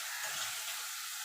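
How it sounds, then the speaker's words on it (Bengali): Ginger paste and slit green chillies frying with melted tomato for moong dal, a steady close hissing sizzle throughout. "এবার ভালো করে কষিয়ে নেব যতক্ষণ মশলা থেকে তেল না ছেড়ে আসছে।"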